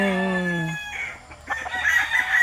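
A gray Boston rooster crows once, loud and close, its long harmonic call breaking off into softer clucking and rustling.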